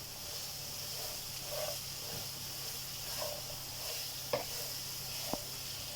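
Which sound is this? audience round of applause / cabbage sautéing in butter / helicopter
cabbage sautéing in butter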